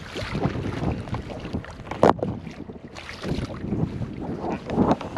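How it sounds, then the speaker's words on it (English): Wind gusts buffet the microphone on a fishing boat out on open water, a steady rough rumble that swells and dips, with a sharp louder gust near the middle and another surge near the end. "sorry about the wind"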